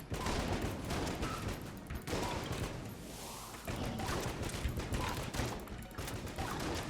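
Rapid, dense gunfire from mahogany homing bullets in the game Enter the Gungeon, a continuous loud barrage of overlapping shots with no pauses.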